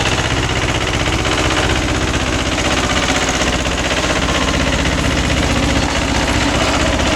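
Mahindra 265 DI tractor running a 36-blade GAS rotavator, its side drive gears giving a loud, steady mechanical rattle and grinding engine drone that holds unbroken and close throughout.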